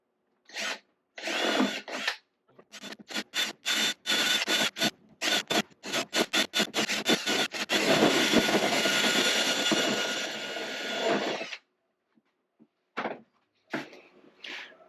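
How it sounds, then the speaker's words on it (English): A power drill whirs in repeated short bursts while cutting holes for a 400 watt power outlet in a third-generation Toyota Tacoma, then runs in one long sustained grind before stopping, followed by a few brief final bursts. "I'm going to use the drill bit they provided to cut out the holes"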